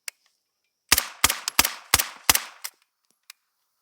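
A suppressed 9mm firearm loaded with supersonic 115-grain ammunition fires six sharp, loud shots in a quick, even string, with faint mechanical clicks before and after.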